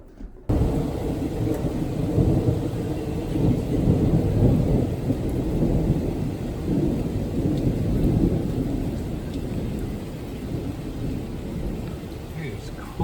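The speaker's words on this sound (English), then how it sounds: "There's quite the thunderstorm going on out here today." A thunderstorm rolls on with a long, deep rumble of thunder over steady rain falling nearby, the roar swelling early and slowly easing off as the rain keeps pattering.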